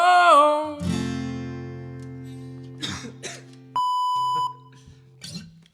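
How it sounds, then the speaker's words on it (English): A brief throat-clearing cough comes from a performer during a live acoustic set in a bedroom, surrounded by sustained guitar tones and a clear electronic beep, with no speech. "Sorry, I had to cough."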